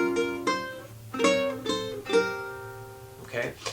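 Clean guitar plays sliding two-note shapes from an instrumental, a few plucked dyads gliding down the neck at moderate volume over a low steady hum, with a brief softer strum near the end.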